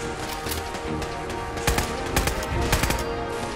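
Automatic turret gunfire in Fallout 4's Nuka-World amusement park, rattling in rapid sustained bursts with sharper louder volleys toward the end, dense game sound effects with no talk.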